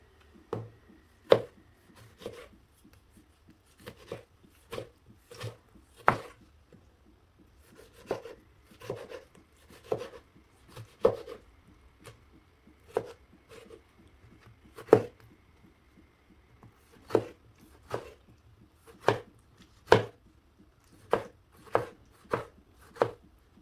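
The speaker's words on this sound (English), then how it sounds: "we are going to cut our tomatoes" A knife chops tomatoes on a board in crisp, evenly spaced strikes, sometimes in quick pairs or triplets, close and clear with quiet gaps between cuts.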